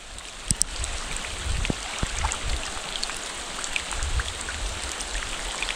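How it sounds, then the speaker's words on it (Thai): Rain falls steadily outdoors in the countryside near water buffalo being bathed, a soft continuous patter with a few sharper drops close by and no voices. "โอ้ยฝนตก"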